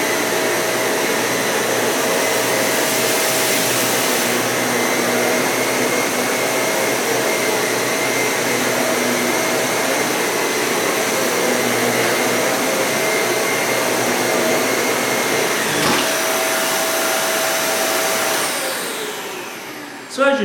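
A Dyson Cinetic Big Ball vacuum cleaner runs with a steady, loud motor whine while sucking up a dense pile of debris in a small area, holding constant for about twenty seconds before a brief clunk and wind-down at the end.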